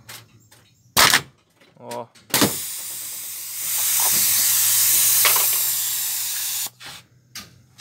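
A homemade pneumatic can crusher, worked by a two-way valve, gives a loud sustained hiss of air as it crushes a drink can, with sharp knocks of the mechanism before it and someone speaking briefly around the action.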